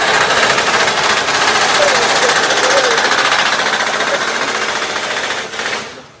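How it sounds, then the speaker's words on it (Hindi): Riveting machine hammering rivets, a loud, dense rapid-fire rattle that runs steadily for several seconds and then tapers off near the end. "अच्छा ये पता चली नई टेक्नोलॉजी है रिवेटिंग की।"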